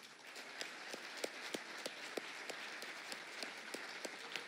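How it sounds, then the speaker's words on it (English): Warm applause for dignitaries closing a technology summit in New Delhi, a steady bed of many hands clapping in a large hall with sharp individual claps popping out, continuous and fairly distant. "Please thank the dignitaries with a warm applause."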